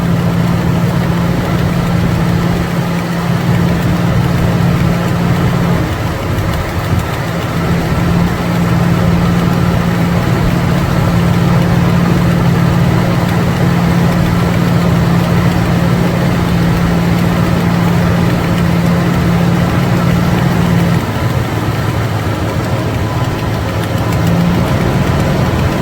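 A Mopar 383 V8 fitted with an Edelbrock 1406 carburetor idles close by, a loud steady low rumble with a slight lope and a shift in tone near the end, and no talking.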